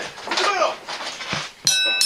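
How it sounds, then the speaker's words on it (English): A ring bell is struck at a wrestling event, a bright sustained ring entering near the end over crowd noise and commentary-style talk. "The bell gets rang."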